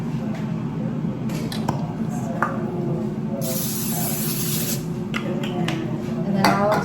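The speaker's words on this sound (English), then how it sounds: "let's hit them with the spray again" Cooking oil spray hissing over smashed potatoes in a kitchen, one long burst in the middle and a few shorter spurts around it, under a steady background hum with occasional clicks.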